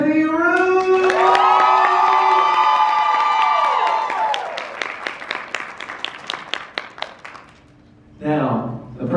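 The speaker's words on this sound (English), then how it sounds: "I need y'all to give a huge round of applause for Ms. Kennedy Rue." A homecoming crowd at Central State cheers with loud whoops and shouts at first, then breaks into scattered clapping that thins out, before a short burst of noise returns at the end.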